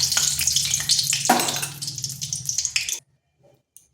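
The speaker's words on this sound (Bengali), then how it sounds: "ওই তেলের মধ্যে আর একটু তেল দিয়ে দিচ্ছি। দিয়ে দিচ্ছি কালো জিরা, দিয়ে দিচ্ছি একটা লঙ্কা।" Nigella seeds and a chili hit hot oil in a pan and sizzle steadily and loudly for about three seconds, then the sound cuts off abruptly to near silence.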